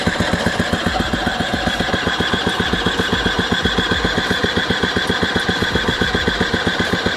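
A cheap Chinese 60cc ATV quad's engine being cranked over slowly by the starter, a steady rapid chugging pulse that stays even and close without catching.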